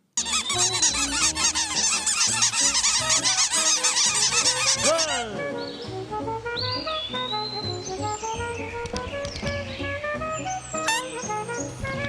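Small cartoon birds from the animated film For The Birds chirp and squawk. A dense, loud burst of overlapping honking calls comes first, then sparser squeaky chirps and whistles follow up close.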